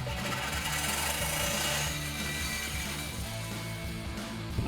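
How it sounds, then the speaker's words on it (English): A Sawzall cutting through the inlet side of an old muffler on a Sierra 1500 exhaust, a dense continuous grinding buzz, loud and close, with no talking. "you're gonna need a Sawzall to cut out your old muffler before you install the new one"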